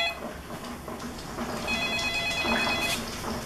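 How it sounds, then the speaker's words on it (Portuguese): A telephone rings steadily in a kitchen where fried chicken is being prepared, its repeated electronic ringing carrying clearly over a continuous background hum, with no voices present. "Ó, o telefone já tá tocando"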